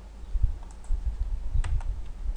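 Quiet clicks from a computer keyboard's numeric keypad keys during 3D UV texture mapping, a few soft, irregular taps over low background hiss.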